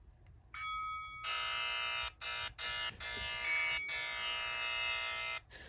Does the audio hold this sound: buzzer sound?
yes